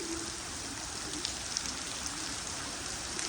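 Heavy monsoon rain pours onto a river during a thunderstorm with high winds, a continuous dense hiss at steady loudness with a few sharper drop impacts standing out.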